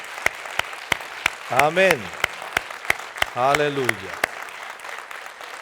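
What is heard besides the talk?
church congregation applauding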